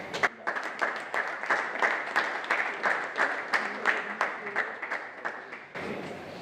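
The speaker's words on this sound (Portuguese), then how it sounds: "uma salva de palmas para todos eles" Guests at a Christmas dinner give a round of applause, steady rhythmic clapping from a crowd that holds for about six seconds before stopping abruptly.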